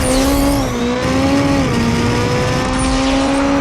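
A heavily modified Honda Civic sleeper in a video game screams through a top speed run, its engine holding a loud, sustained high-pitched drone that dips slightly at shifts, with tire and wind noise beneath.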